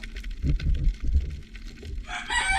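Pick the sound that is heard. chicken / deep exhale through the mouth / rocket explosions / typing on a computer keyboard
chicken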